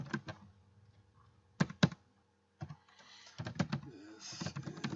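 Someone types HTML code on a computer keyboard, producing quiet, close clicks in short clusters and sparse separate taps with brief pauses between them.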